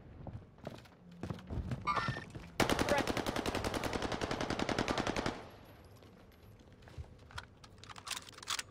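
Automatic gunfire in the Call of Duty: Warzone video game: a dense, rapid burst lasting a few seconds, loud and close, set between quieter scattered game sounds and thuds.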